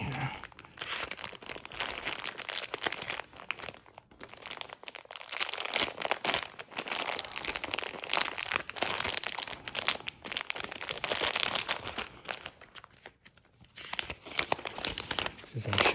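Razor knife slicing open the packaging of a Honda Trail CT125 front rack kit, heard as dense crinkling and tearing of plastic and cardboard close by, continuous for most of the stretch with a brief lull near the end.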